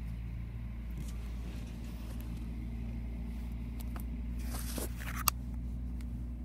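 Volvo FM12 yard shunt truck driving around a transport yard, giving a steady, fairly loud low engine drone with faint rattles and a sharp clack near the end.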